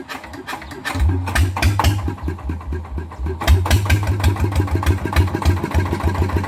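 A Yanmar TF 120 diesel engine with a broken valve cranks and catches, settling into a steady, chugging idle with a low rhythmic knock, close by and fairly loud.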